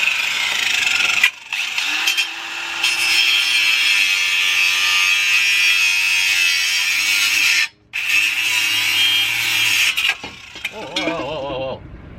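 Angle grinder cutting through a van differential, a loud continuous high whine running almost unbroken for about ten seconds with a brief cut-out near the middle, then spinning down at the end.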